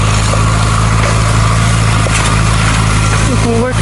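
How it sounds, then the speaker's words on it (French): A small tractor pulling a hay rake (râteau faneur) across a field, its engine a steady close low hum with constant harmonics, brief mechanical clatter near the end. "Travaille bien ce petit tracteur avec ce petit ratophoneur"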